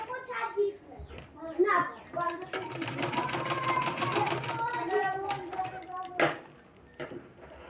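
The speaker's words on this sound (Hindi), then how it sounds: "उसी तरह से हमको इसमें सिलाई लगाते जाना है।" A sewing machine stitches along a marked line on a decorative sleeve, running in a steady stretch with brief pauses and quick restarts, fairly close, with a voice and light rattles in the background.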